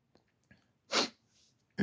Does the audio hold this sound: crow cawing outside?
no